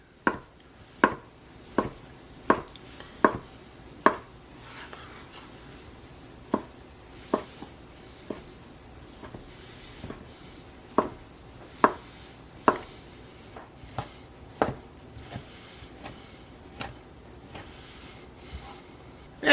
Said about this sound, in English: I want to cut it about 1/8 of an inch